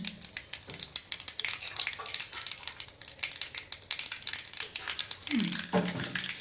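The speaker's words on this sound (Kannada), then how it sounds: "ಸಾಸಿವೆ ಜೀರಿಗೆ ಹಾಕೋ" Mustard and cumin seeds crackle and sizzle in hot oil for a chutney tempering, a busy spattering under a person's speech close by.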